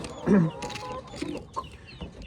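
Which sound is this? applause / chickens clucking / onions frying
chickens clucking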